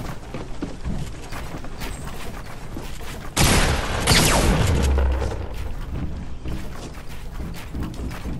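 A sudden loud volley of video game gunfire breaks out midway, a dense burst with a heavy low boom, then fades back into a busy background rumble.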